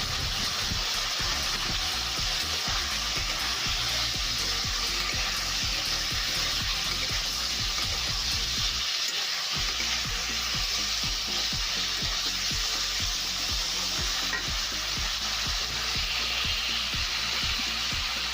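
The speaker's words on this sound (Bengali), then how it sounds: "এবার ছোলাটা দিয়ে দেবো।" Chickpeas sizzle and fry steadily in hot oil in a pan for papaya dalna, a continuous close crackling hiss with stirring scrapes and a brief pause midway, no voices.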